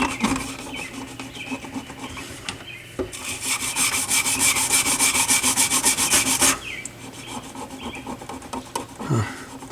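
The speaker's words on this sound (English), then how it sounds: "see if I can get rid of some more of this gunk" Scrubbing gunk off a Dual 606 turntable gives a steady, close rasping rub made of repeated strokes. A louder, denser burst of scrubbing fills the middle, and no one speaks.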